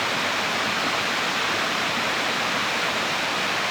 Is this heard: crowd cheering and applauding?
no